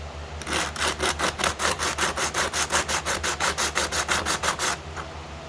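Rhythmic back-and-forth scraping of sandpaper scrubbing crust off a rusty junk-pile saw part, about twenty quick even strokes, close and loud with no talk.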